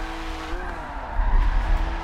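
A race car brakes hard and flicks into a corner, tires squealing and skidding over a deep engine rumble that surges louder midway, close and brief.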